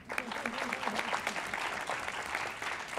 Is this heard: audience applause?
yes